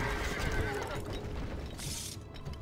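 A horse neighs in the game Stronghold Crusader on a wide open plain, a loud whinny set against constant battle ambience and clatter, with no talking.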